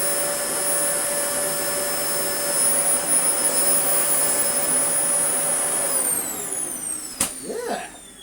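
A repaired Dyson DC40 Mk1 vacuum cleaner runs close and loud with a steady, high whining roar, then winds down toward the end with a brief knock.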